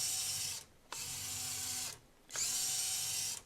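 A Traxxas TRX4M RC crawler fitted with portal axles whines along at low speed in three bursts, its high motor and gear drone stopping briefly between each run.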